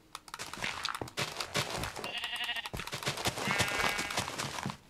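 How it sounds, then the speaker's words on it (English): Sheep bleat in Minecraft on the New Nintendo 3DS, a couple of wavering bleats rising over busy game sounds and clicks, close and clear with no talking. "So there's sheep."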